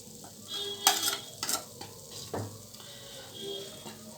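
Masala peanuts being stirred in a pan, spoon scraping and clinking against the metal in a few quick strokes over a faint background sizzle, close by, no talk.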